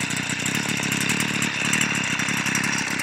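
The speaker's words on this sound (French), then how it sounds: "Alors, elle a redémarré. Déjà, elle a l'air de mieux tenir le ralenti." A STIHL FS 55 brushcutter's small two-stroke engine idles steadily after a restart, a close, continuous buzzing putter with fine rapid firing pulses and no voices.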